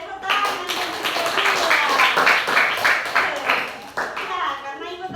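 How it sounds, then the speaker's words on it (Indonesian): Children in an Indonesian primary school classroom clap together in quick, rhythmic bursts, loud and close, with a teacher's voice and some chatter mixed in. "Oke, tepuk tangan dan kedua."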